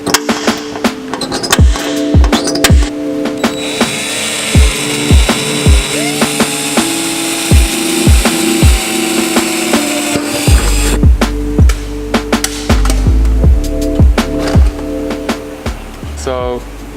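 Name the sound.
power drill drilling holes in Toyota Tacoma body for snorkel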